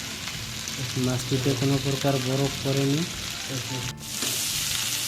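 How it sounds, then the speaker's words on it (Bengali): Fresh river hilsa fish fries in oil in a pan, a steady crackling sizzle running underneath a person speaking for a few seconds, with a sharp clack near the end. "মাছটির এক পিঠ ভালোভাবে ভাজা হয়ে গেছে হালকা"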